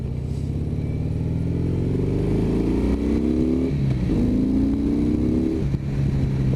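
A 2014 Harley-Davidson CVO Breakout motorcycle engine revving up close, a deep throaty rumble rising in pitch through repeated throttle pulls, easing back and climbing again.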